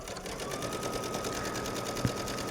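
A sewing machine stitching around a silk chiffon sleeve, a steady fast mechanical whirr with rapid rhythmic needle pulses, fairly quiet and close.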